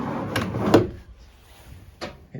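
A microwave drawer in a motorhome cabinet slides with a couple of quick wooden knocks and a rumble, then a lighter knock after a pause, close and moderately loud.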